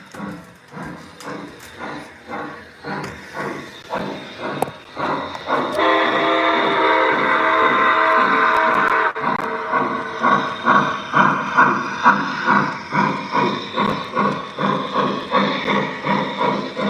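A steam train chugs past in steady rhythmic puffs, loud and close, with a sustained whistle blast in the middle before the regular exhaust beats resume.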